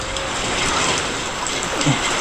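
Steady, dense rain hissing down with no pauses, a constant wash of patter close by and moderately loud.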